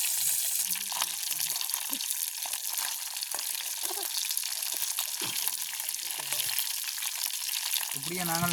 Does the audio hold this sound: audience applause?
no